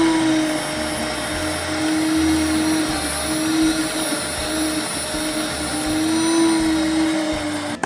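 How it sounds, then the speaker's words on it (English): A Nutri-Mill Impact Mill grinding grain into flour roars steadily with a loud, continuous high-pitched whine that holds level throughout, close and alone. "I do grind that on my Nutri-Mill Impact Mill"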